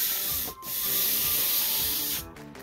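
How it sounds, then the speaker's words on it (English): Abrasive sanding strokes across epoxy putty bedding on a piano key frame, a steady loud rasp running almost the whole time, broken by a brief pause early on and fading near the end. "when you sand across it"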